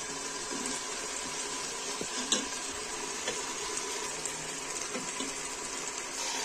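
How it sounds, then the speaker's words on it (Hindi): Beef mince sizzles in a pan as tomatoes and whole green chillies go in. A steady, quiet frying hiss continues throughout with a few soft clicks and stirring touches, and no voices. "अब इसमें डालूंगी मैं टमाटर, और साबुत मिर्चें हरी।"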